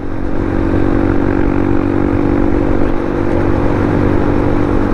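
A Honda Wave 110cc motorcycle engine drones loud and close in a constant buzzing run, steady throughout with no talking.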